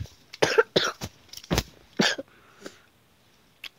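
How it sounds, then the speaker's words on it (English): A person coughs close by, a series of sharp, harsh bursts in an irregular cluster followed by one faint final cough, with no talking. "I'm so sorry about the coughing"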